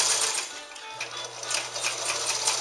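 A straight stitch sewing machine fitted with a darning foot runs continuously, a close, steady rapid clatter of the needle mechanism with a faint low motor hum beneath, no voices.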